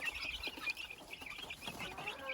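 Baby chicks in a cage, just moved into a larger one and finding the feeder and water, give off a dense, busy chorus of high peeps and chirps that overlap continuously at close range.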